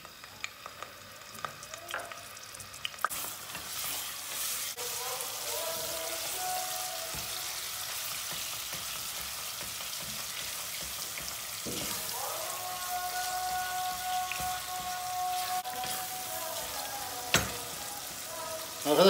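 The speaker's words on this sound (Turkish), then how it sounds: "kıymamızı şöyle eze eze iyice bir kavuracağız" Minced meat frying in hot oil in a pot for rice soup gives a steady crackling sizzle, with occasional scraping and stirring clatter as the meat is broken up, and a few clinks of utensils against the pot.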